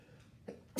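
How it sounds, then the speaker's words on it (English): A single sharp sneeze bursts out near the end after a quiet pause, loud and close, preceded by a faint intake of breath. "apologies for the sneeze"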